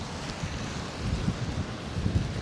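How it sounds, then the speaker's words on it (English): Strong wind buffeting a microphone on a street in Da Nang, a gusty low roar that swells and surges in uneven bursts, fairly faint overall. "it's very windy"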